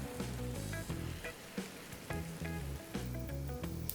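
Butter and shredded mozzarella sizzle and fry in a hot pan, a steady dense crackling hiss, close and continuous, with brief louder pops throughout.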